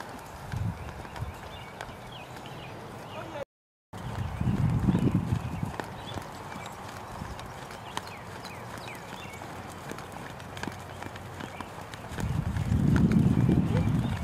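A horse walks and struts through a western dressage lesson, its soft hoof falls clopping at a distance under an instructor's talk, with a couple of heavier bursts of movement.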